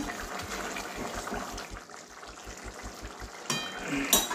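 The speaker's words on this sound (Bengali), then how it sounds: "एक मिनट ফুটিয়ে নিচ্ছি।" Jackfruit curry with potato and garam masala bubbles in a pan, a soft, steady simmer with a faint pulsing undertone and a brief clatter near the end.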